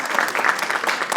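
Brief burst of applause from an audience at a film colloquium, a steady moderate wash of clapping with no voices above it.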